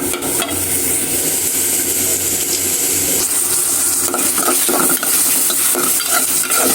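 Fish and onions fry loudly in hot oil for a braised dry fish curry, a dense continuous sizzle with frequent spatula scrapes and stirring clatter close up, no voices.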